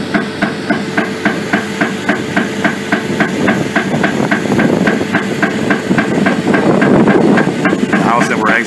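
An HD 12 winch pulls underground pipe beneath a house basement during a pipe-bursting job, giving a loud, regular mechanical clanking that speeds into a dense grinding rumble toward the end.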